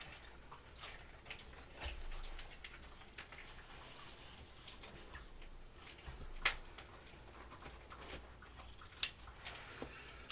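Scissors trimming excess fabric lining from a pants pocket, a few faint, sparse snips and small handling rustles against a quiet background.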